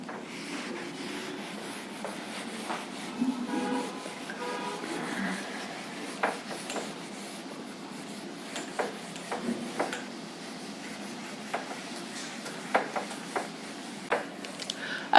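A board is wiped to rub out writing, a soft continuous scrubbing with scattered light taps and knocks, quiet and close, with no voices.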